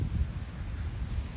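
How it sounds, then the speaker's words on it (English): Steady wind at the ocean, a breeze of about 10 to 15 mph buffeting the microphone with a low, constant rumble and no distinct gusts. "It's a little bit windy down here. I'm at the ocean."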